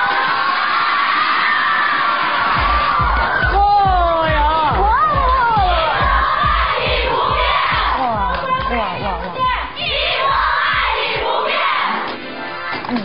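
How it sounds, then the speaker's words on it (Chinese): A studio audience on the variety show 我是大美人 cheers and screams loudly for Li Yifeng's entrance, a steady thumping music beat running underneath the excited crowd noise. "让我们赶紧掌声有请李易峰啊"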